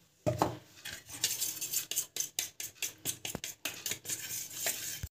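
A spoon whisks batter in a bowl with quick, rhythmic clinking strokes against the sides, close and fairly loud, with no one talking.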